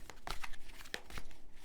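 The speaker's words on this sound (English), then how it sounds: "So I'm going to shuffle your cards" Tarot cards being shuffled by hand make soft, irregular riffling and papery snaps, a few sharper flicks among quieter rustling, close but faint.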